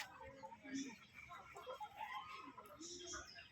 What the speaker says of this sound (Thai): ไก่แก่ไก่บ้าน